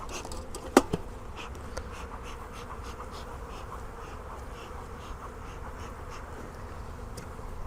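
Honey bees swarm around an open beehive, their dense, steady buzzing filling the air close by, with a couple of sharp clicks near the start.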